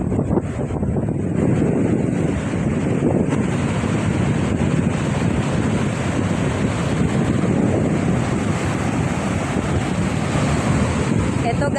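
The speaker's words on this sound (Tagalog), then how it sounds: "talagang ang lalaki ng mga alon at ang lalakas. Malakas po ang hangin sa amin." Strong wind buffets the microphone while big, rough sea waves roar and crash continuously on an empty shoreline, a loud, unbroken rumble with no pauses.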